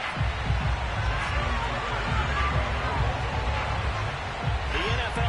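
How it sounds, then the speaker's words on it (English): A Baltimore stadium crowd in an EA Sports football video game, a broad, continuous roar of cheering and hubbub filling the space with steady intensity and occasional swells, no distinct voices standing out. "The two teams emerging from their respective tunnels a minute ago to the approval of this Baltimore crowd."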